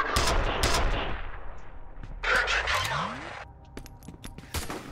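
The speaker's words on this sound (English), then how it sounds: "No, they're shooting grenades at me." Gunfire and grenade launcher shots in the video game F.E.A.R., loud bursts and sharp cracks with a rumbling blast midway, scattered shots continuing after.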